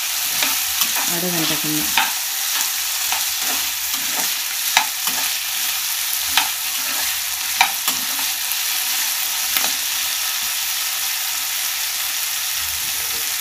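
Food fries in a pan with a steady, close sizzle and crackle. Occasional stirring scrapes and taps break through, and a voice speaks briefly.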